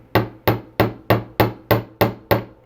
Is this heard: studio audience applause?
no